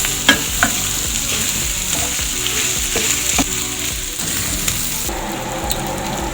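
Tripe (matumbo) fries in a pan with garlic and onions, a loud steady sizzle broken by repeated scraping knocks of a utensil as the pieces are stirred and turned.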